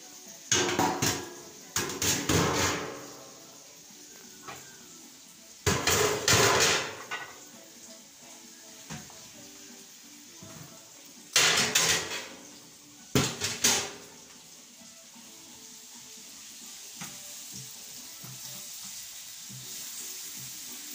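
Shrimp hit a hot pan seasoned with turmeric for a sautéed salted fish dish, giving several loud bursts of sizzling and clattering as they are tipped in and stirred, then settling into a quieter, steady fry.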